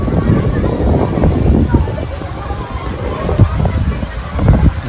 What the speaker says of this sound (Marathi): असं वारं एकदम भारी सुटलेलं आहे